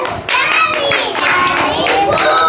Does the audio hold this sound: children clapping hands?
yes